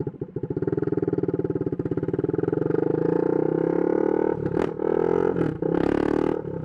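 A straight-piped 2022 Husqvarna Svartpilen 401 motorcycle runs loud and close, its engine rising and holding in a steady roar, then snapping through a few sharp throttle blips near the end.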